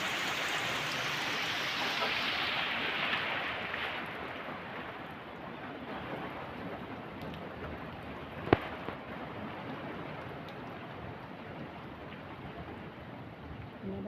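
Steady continuing rain, a broad even hiss that is louder at first then settles, with a single sharp knock partway through and no clear talk.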